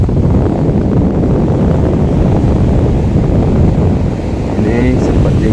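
Strong wind buffeting the microphone at Cemara Indah beach in Gosong Telaga, a loud continuous rumbling roar with surf washing in the background, no other sounds standing out.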